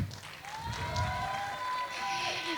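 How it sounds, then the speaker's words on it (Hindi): An audience applauds a singer on a televised singing competition stage. Scattered clapping runs under a sustained musical tone and crowd noise for a few seconds. "एक बार फिर से जोरदार तालियां हो जाए"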